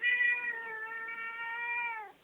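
A pet cat named Puss lets out one long, drawn-out meow, close and clear, in a quiet room with no talk over it.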